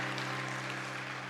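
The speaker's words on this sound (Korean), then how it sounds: "박수로 선물도 드립니다" Congregation applauding during a Sunday church service, a steady dense wash of clapping that fills the whole moment, moderately loud and sustained without pause.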